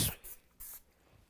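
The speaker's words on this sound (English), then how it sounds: "I have our pan, our cooking spray. Just going to coat this" Cooking spray coating a casserole pan, two short hissing bursts close by, quiet overall with a brief breathy sound at the start.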